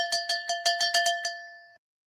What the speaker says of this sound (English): Yeah, the bell, see?